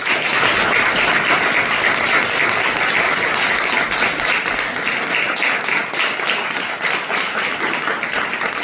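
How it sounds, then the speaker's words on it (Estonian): Audience applause at a children's choir spring solo concert: steady, dense clapping from a large crowd that holds at an even loudness throughout, with no voices standing out. "et teha neile väga suur aplaus"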